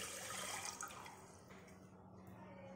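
Water poured into a pressure cooker holding sugar for syrup, a soft splashing gush that fades to faint trickles and drips, quiet and close.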